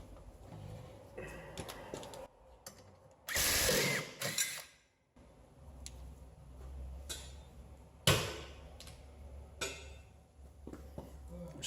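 A bolt is turned by hand-tool ratcheting into a brake caliper bracket hole on a 2012 Toyota RAV4 during rear brake work, with clicks, metallic knocks and a few louder bursts, close up.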